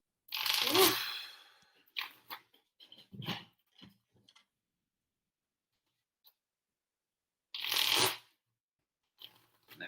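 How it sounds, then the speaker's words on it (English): A deck of playing cards is shuffled during a Premodern Magic: The Gathering match, with riffling bursts and soft card clicks in irregular clusters, loud and close, separated by silent pauses. "Let me shuffle this because"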